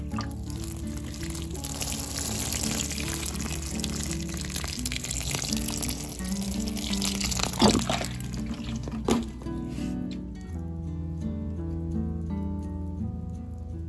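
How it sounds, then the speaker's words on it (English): Water poured over newly repotted plants in soil, a steady wet splashing and trickling that runs close and continuous with a couple of louder splashes partway through. "I'm just gonna go ahead and water them."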